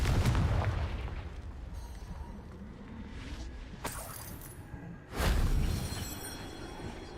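A Confringo fire spell fires in Hogwarts Legacy, landing as loud booming blasts, one at the start and a sharper burst near the end, over a dense rumbling game soundscape with no talk.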